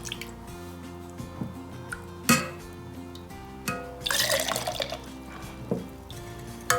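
Warm milk flavoured with cardamom, almond and poppy seed is poured into a glass, heard as faint trickling, dripping and splashing with a few sharper liquid splashes near the end.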